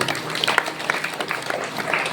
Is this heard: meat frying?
no